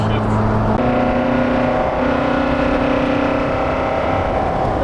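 A Toyota AE86 engine with a high-profile cam revs steadily from inside the car. A sustained engine drone climbs in pitch over a few seconds, loud and close, with a shift in tone partway through.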